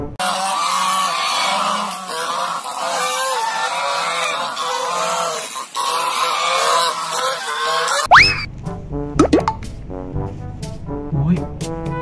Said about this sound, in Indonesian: Wah, ini ada angsa, teman-teman